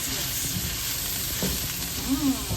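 Petchay and tofu simmer in a pan with a steady sizzle and bubbling hiss, while a utensil stirs through the mixture with soft scraping movements.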